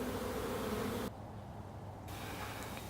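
Honey bees in an open hive give a dense, steady buzzing hum that fills the space, briefly dipping and then resuming.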